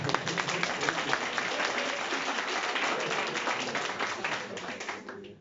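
Modest applause from a comedy pub audience in Vienna, crisp clapping with a voice talking over it, holding steady before fading out near the end.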